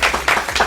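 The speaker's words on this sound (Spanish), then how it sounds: "Enrique de la Madrid, ¡un aplauso!" A studio audience at a marketing tourism special breaks into a short, loud burst of clapping for Enrique de la Madrid.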